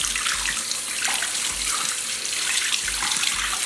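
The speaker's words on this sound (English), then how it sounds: "the water is running clear, you know." Tap water runs steadily into a sink while makeup brushes are rinsed under it, a continuous close hiss and splash with no talking.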